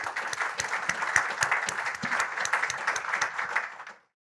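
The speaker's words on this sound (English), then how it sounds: "Let's give them a round of applause." Enthusiastic applause from an airport forum audience after a panel discussion, dense clapping sustained for about four seconds before stopping abruptly.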